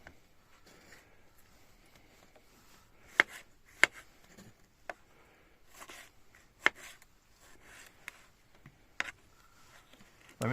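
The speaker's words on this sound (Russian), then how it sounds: "Нарезаем помидорчик." A tomato being cut with a knife on a board while breakfast is made outdoors, a scattered series of faint taps and sharper knocks, close but quiet, with no talking.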